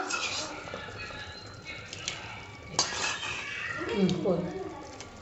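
Paneer being stirred into a boiling pot of rice, giving soft clinks and scrapes of a utensil against the pot with faint bubbling, moderately close, amid light kitchen background noise.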